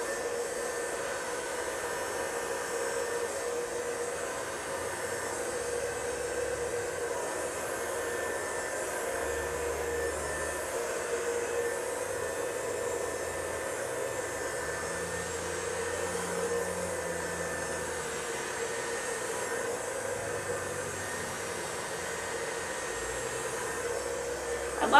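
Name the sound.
hair dryer with concentrator nozzle blow-drying hair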